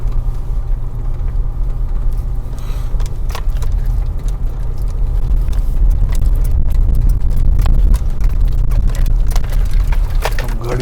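A car engine rumbles steadily at close range as the vehicle is driven and turned around, the low drone swelling slightly partway through, with occasional light knocks over the engine noise.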